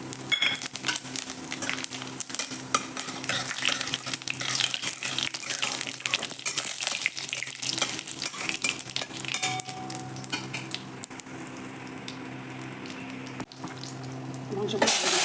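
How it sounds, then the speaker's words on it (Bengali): Four dried red chillies and a spoonful of cumin fry in a little hot oil for a Bengali chicken curry, a close, busy sizzle with scraping and clinks of a utensil throughout. "আমার গরম হয়ে গেছে, 4টে শুকনো লঙ্কা দিয়ে দিলাম, 1 চামচ মতো জিরে দিয়ে দিলাম"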